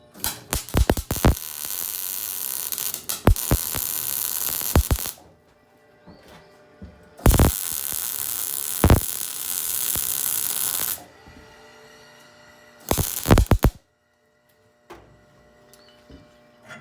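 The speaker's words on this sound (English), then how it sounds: "I have 2 rosette welds to do there, and there." Rosette welds laid on a steel chipper part, long crackling bursts of close electric arc welding separated by quiet pauses, with a few sharp clicks and knocks between them and no talking.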